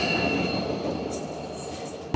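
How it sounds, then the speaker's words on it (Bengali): Garib Rath Express train running on rails, a steady loud rumble and rolling roar from inside the carriage with a faint high squeal, continuous throughout. "বেলা 12:50 আমাদের ট্রেন এই মুহূর্তে পার করছে বিহারা স্টেশন।"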